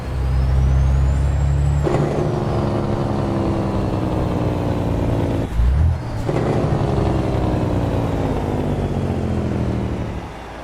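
A big Detroit diesel engine in an International 9900 cabover truck runs loud and steady close by, with a hiss of air brakes early on and a brief dip and thump midway.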